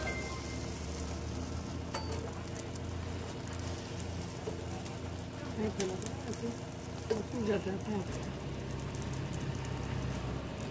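Masala omelette frying in a pan on a gas stove, a faint steady sizzle with occasional stirring clinks, quiet and continuous.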